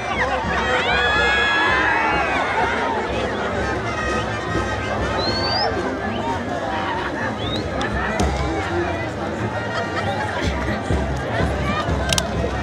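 A large crowd at a village bullfight in Querobamba, Ayacucho, a dense roar of cheering, chatter and scattered applause that carries steadily throughout, with voices and shouts mixed in.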